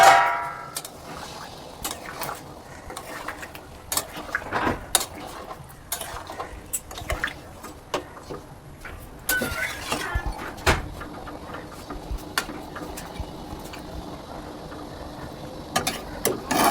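A spoon clinks and scrapes around a pot of chicken curry after the lid is lifted, with metallic clangs and rattles in irregular bursts, close and fairly loud, with little or no talk.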